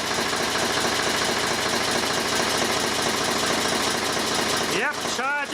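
A car engine idles steadily right after starting, a continuous loud drone with a short burst of speech near the end.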